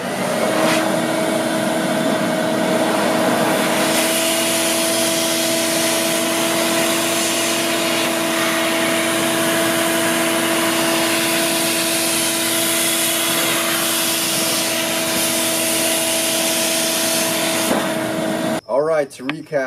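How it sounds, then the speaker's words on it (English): A shop vac blows air into a large inflatable, a loud steady roar with a constant hum that runs unbroken for most of the stretch and then cuts off abruptly near the end. "go straight for a blower or a shop vac and you'll have this sucker blown up in no time"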